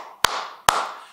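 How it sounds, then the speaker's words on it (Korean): Two sharp, close hand claps ring out about half a second apart in a quiet room, each with a brief decaying tail, with no voices. "아 일단 우리 모드리치에게 박수 3번만 칩시다"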